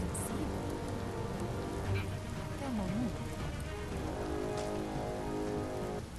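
Steady rain patters and hisses on surfaces in the video game Biomutant, a dense continuous wash of droplets with faint low rumbles and game tones beneath.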